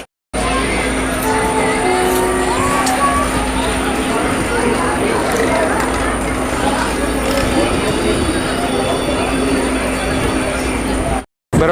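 The Barauni Gondia Express passes on the rails, heard from inside a moving train as a loud, continuous rumble of wheels and clatter with a high steady whine that fills the whole stretch, and a voice talks over it.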